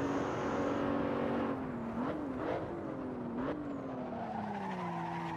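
A BMW Z4 race car at the Nürburgring in a racing video game brakes late and skids. A steady engine drone runs throughout, tire squeals rise and wobble over several seconds, and a few short chirps come as the car slides through the corner.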